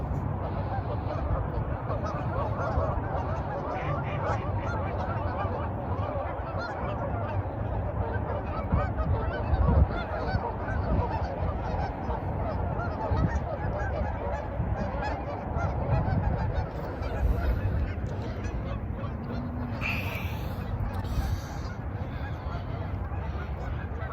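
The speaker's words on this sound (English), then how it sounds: "The geese are coming in their clans to land at the couple of open water holes" A large flock of geese honks continuously while landing on open water at dusk, a dense, overlapping chorus, moderately distant, the clamor rising and falling over steady background noise.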